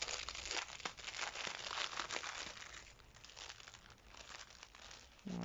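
Paper crinkles and crackles up close as an envelope package is handled and opened, in irregular bursts that fade lower in the middle before a final rustle.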